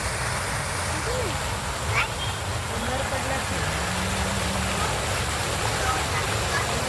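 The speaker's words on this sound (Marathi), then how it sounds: "आपल्याला दिसतंय तिथे मस्त कारंजी" A garden water fountain splashes in a park during the rainy season, making a continuous broadband rush of falling water with faint voices and a soft bump or two in the background.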